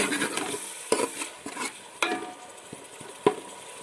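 Cumin and garlic paste being stirred in an oily pan for an old-style colocasia, egg and tamarind curry: a soft continuous sizzle broken by several sharp spoon knocks and scrapes against the pan.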